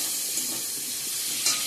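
Spice paste frying in oil in a pan, a steady soft sizzle and hiss with a couple of brief sharper spits, faint and close.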